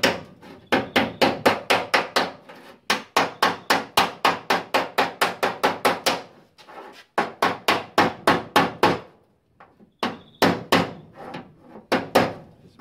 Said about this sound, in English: I'm just going around with a hammer and dolly, just straightening up this rail.